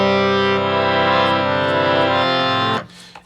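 A harmonium with its bellows slider opened slightly for a brighter tone holds a loud, sustained reedy chord for almost three seconds, then stops abruptly.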